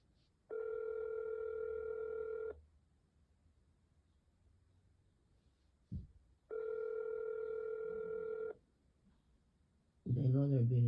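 Telephone ringback tone on an unanswered call to an around-the-clock phone line, two long steady ring bursts separated by silence, with a short click between and a voice briefly starting at the end.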